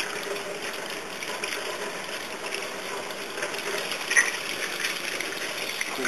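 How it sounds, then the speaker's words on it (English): Dyed rabbit hair is rinsed under running water, giving a steady, close gush and splash that holds evenly throughout. "I'm just going to rinse this a little bit more."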